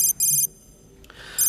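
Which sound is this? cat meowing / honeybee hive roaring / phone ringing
phone ringing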